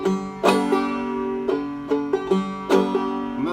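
Open-string clawhammer banjo pattern for the tune Ida Red, with bright plucked notes and brushed strums falling in an uneven bouncing rhythm, close and clear with no talking.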